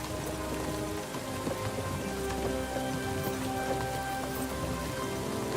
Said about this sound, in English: It would be nice if this bloody rain let up.